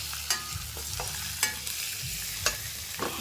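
Onions frying with ginger and garlic in a pan, a steady close sizzle broken by several sharp scrapes and clatters of the spoon stirring, with no voices.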